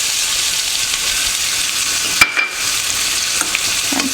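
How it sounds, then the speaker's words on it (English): Onions for daal fry loudly in a hot pan, a dense, close, even sizzle with a short scrape or stir midway and no talking. "That's when your onions go in."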